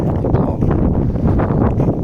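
Loud, close wind rumble buffeting the microphone in a steady, gusty roar with no speech, out in an open farm field.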